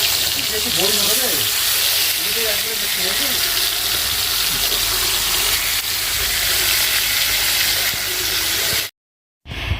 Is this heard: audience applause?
no